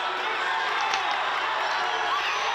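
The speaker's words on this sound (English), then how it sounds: "the crowd really urging them on here" Spectators at a Welsh fencing bout roar and cheer steadily through a close exchange, a dense, continuous crowd wash with no breaks, with faint murmuring voices mixed into the noise.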